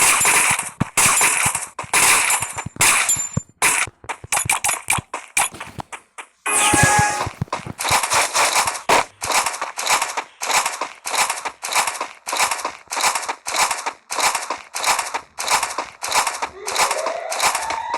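Rapid bursts of gunfire from the mobile battle game Free Fire, with dense volleys and single shots, a short pause near the middle, then steady repeated firing to the end.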